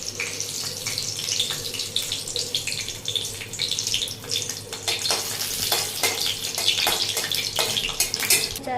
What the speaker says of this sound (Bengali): তো এর মধ্যে দিয়ে দিচ্ছি শুকনো লঙ্কা ফোড়ন